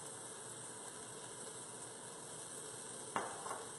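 Onions and mushrooms sauté in a pan with Japanese seven spice, a steady soft sizzle running throughout, with a brief clatter of stirring near the end.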